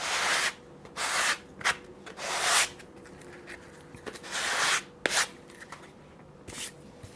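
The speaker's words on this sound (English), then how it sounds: "This is a sandpaper, just a block of wood, and I change each time the sandpaper on it." A sandpaper-wrapped wooden block rubbing over wood in bursts of back-and-forth strokes, close and moderately quiet, with short pauses between passes and no talking.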